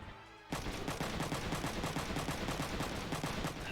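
Rapid automatic gunfire from the video game Front Mission 3, starting abruptly after a brief quiet moment and then continuing as dense, steady bursts of shots for several seconds.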